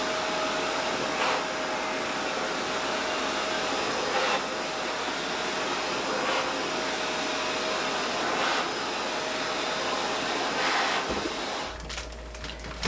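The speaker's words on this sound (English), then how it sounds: "I am going to go ahead and vacuum out that bottom shelf" A vacuum cleaner cleaning out a pantry shelf runs steadily and close by with a constant whine and roar, then cuts off near the end.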